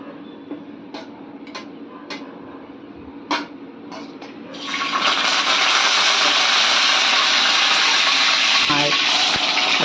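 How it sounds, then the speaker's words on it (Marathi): Curry leaves drop into hot oil in a kadhai on a gas stove while a Bangda (mackerel) masala gravy is being made, setting off a sudden loud, steady hiss of sizzling that continues to the end after a quieter kitchen background. "तेल गरम झाले. आता थोडासा कढीपत्ता टाकू."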